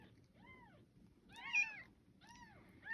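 Newborn kittens being syringe fed: three thin, rising-and-falling meows sound up close, spaced about a second apart, the last one loudest, over a soft low background hum.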